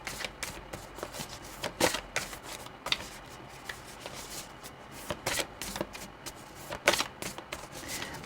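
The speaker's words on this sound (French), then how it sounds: "Allez, une petite coupe pour terminer." Someone cuts and handles a deck of tarot cards at close range, with soft repeated riffling and slapping flicks spread across the stretch, no talking.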